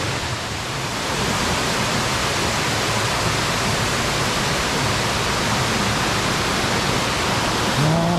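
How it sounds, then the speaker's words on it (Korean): A three-tiered mountain waterfall on Jirisan in summer, a loud dense continuous roar of falling water, close and unbroken throughout with no talking. "무대치기 폭포입니다."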